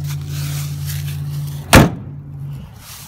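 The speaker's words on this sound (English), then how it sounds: "Door's heavy." The heavy steel door of a 1967 International 1600 truck shuts with a single loud, solid slam midway through, over a steady low hum that stops soon after.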